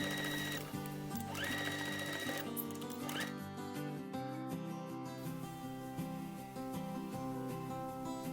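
A sewing machine stitches a cloth face mask, a steady close mechanical whir with the rapid needle rhythm running throughout and brief changes in speed partway through.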